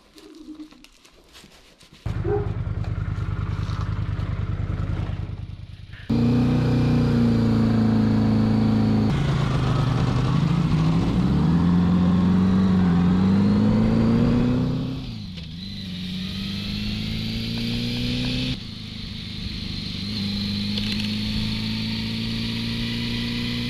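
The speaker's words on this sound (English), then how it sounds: "take her out for a spin" A Honda Goldwing GL1100 motorcycle set off on a ride, the engine starting up after a quiet moment, then a steady drone that rises in pitch as it accelerates, easing and picking up again through shifts.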